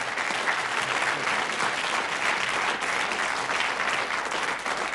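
Studio audience at a 1983 British television quiz show giving a sustained round of applause, dense and even clapping at steady loudness for the whole stretch, with no speech over it.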